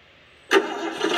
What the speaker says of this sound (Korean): 사운드 시동 킵니다.